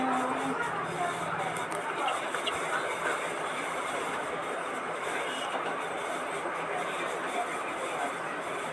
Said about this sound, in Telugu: ఏంటి ట్రైన్?